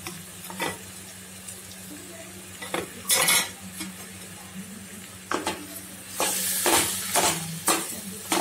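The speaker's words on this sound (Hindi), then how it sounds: "अच्छी तरह मिक्स कर लेंगे।" Boiled potatoes for pav bhaji are stirred in a pan over a soft sizzle, with a spoon scraping and clinking against the pan in repeated short strokes, near and fairly quiet, with no talking.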